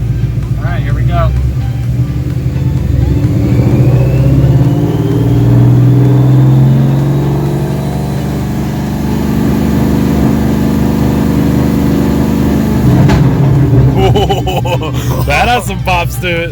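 Car engine fitted with a Whipple supercharger on its first start, held at high revs around 3,000 RPM with a rising whine, then dropping back as pops and a voice come in near the end.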